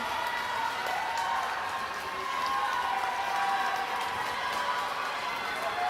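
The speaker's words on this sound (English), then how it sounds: "And the crowd is going wild for young Mario." A crowd roars steadily at a swimming race in a Mario video game, a dense, even wash of cheering that neither swells nor fades, with no voices standing out.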